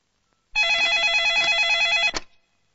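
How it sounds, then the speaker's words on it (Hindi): A telephone bell rings in one continuous burst of about a second and a half, loud and close in a quiet room, then cuts off abruptly. "लगाओ, मुख्यमंत्री बाबूराव जी देशमुख को फोन लगाओ"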